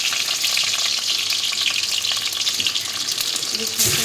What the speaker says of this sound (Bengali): জিরে শুকনো লঙ্কা ফোড়নে দিয়েছি সঙ্গে কাঁচা লঙ্কাও দিয়ে দিলাম